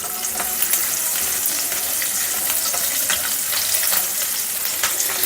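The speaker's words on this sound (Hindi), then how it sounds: "साथ में हम कटी हुई अदरक, लहसुन, इन सबको डाल के हमें थोड़ी देर तक इसको इसी तरह पकाना है" Green chillies with chopped ginger and garlic sizzle steadily in hot oil in a pan, a dense continuous frying hiss with occasional brief crackles and stirring, close and fairly loud, no voices.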